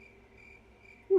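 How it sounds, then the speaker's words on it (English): A crickets-chirping sound effect, triggered from a stream deck, plays as a brief steady insect trill. A sudden louder sound cuts in at the very end. "When it gets awkward, it's crickets. The sound of crickets."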